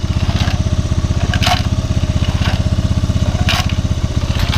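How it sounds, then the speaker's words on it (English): A gas tank loaded with nuts and bolts is strapped to the spinning rear wheel of an old 250 dirt bike, producing a loud, rapid engine throb with metal parts rattling and clanking inside, punctuated by sharper knocks. "I put a bunch of nuts and bolts in it, strapped her to the wheel of the old 250, and we're gonna tumble it for a bit"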